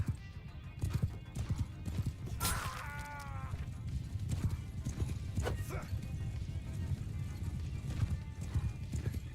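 Horse hooves clip-clop steadily in the Bannerlord video game with a Lord of the Rings mod, amid a busy battle din, with a brief neigh partway through and a player talking over the action.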